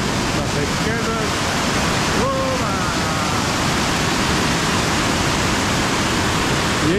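Sete Quedas waterfall on a river near Mairiporã, São Paulo: a loud, steady, broadband roar of falling water fills the whole clip, with faint voices briefly under it.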